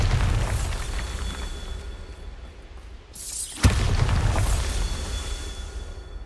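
A Bombarda spell blast in Hogwarts Legacy detonates with a sharp, loud boom midway, trailing into rumbling debris, set against a steady bed of game ambience and a softer burst near the end.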